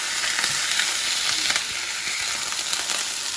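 Sausage frying in a pan on a stovetop burner, a dense, bright crackling sizzle with irregular pops and spits, close and steady for a few seconds with no voices.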